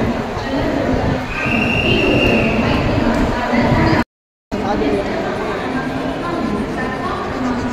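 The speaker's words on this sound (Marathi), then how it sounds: "आता मंडळी CSMTवरून ठाणे ट्रेन पकडलेली आहे डायरेक्ट आणि आता चाललोय निघालोय" A Mumbai local train running from CSMT toward Thane, giving a loud steady rumble and rattle of the carriage with a faint wheel squeal, under crowd chatter, with a brief dropout midway.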